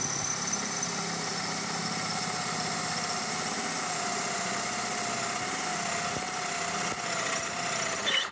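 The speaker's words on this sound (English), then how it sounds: "take a drill, run it right down inside here while that tool's on there" A power drill bores out a push rod hole in an engine cylinder head with a tool fitted in place, giving a steady, even whirring hum that holds for several seconds with no talking.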